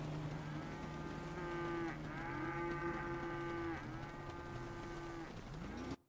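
Cattle in a GTA roleplay game low in long, steady moos, one after another, loud and continuous over a faint game background, ending abruptly, with no speech.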